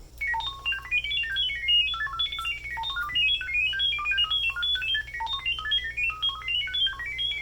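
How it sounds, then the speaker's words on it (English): A rapid, continuous stream of high electronic beeping tones from a Conico wireless IP camera pairing with Wi-Fi hops between pitches like a chirping data melody, steady and fairly loud over a low hum. "so it uses that noise to connect the camera for you"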